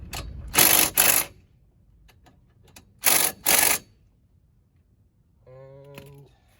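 A wrench tightens a bolt during a brake and rotor replacement on a company van, giving two pairs of short, loud ratcheting bursts close by, with faint clicks between them and a brief tonal whir at the end.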